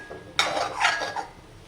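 A spoon clinks and scrapes against a pan while okra roast is stirred, making one brief, close metallic clatter and then a fading scrape.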